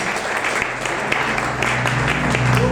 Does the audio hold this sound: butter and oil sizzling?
no